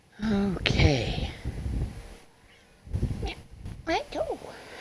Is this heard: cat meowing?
yes